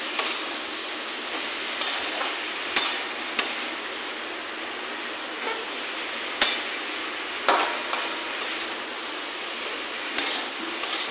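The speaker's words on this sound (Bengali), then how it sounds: "মশলার সঙ্গে কষে নিই, ভালো করে মিশিয়ে নিই।" Jackfruit being stirred and fried with spices in a pan, with a steady sizzle throughout broken by occasional sharp spatula knocks against the pan, close and fairly loud, with no talk.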